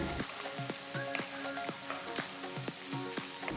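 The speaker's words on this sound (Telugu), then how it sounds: "రెండు పెద్ద ఉల్లిపాయలు సన్నగా తరిగి వేసుకుని రెండు నిమిషాలు వేగనివ్వాలి" Two large, finely chopped onions fry in hot oil with whole spices for a hotel-style Chennai vada curry, a steady close crackling sizzle with repeated light spatula scrapes and faint background music.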